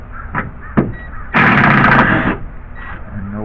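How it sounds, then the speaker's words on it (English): Compressed air gun blasting debris out of a screw hole in a wooden sundeck during repair, a loud steady hiss lasting about a second after a few faint taps. "take your air gun, blow it"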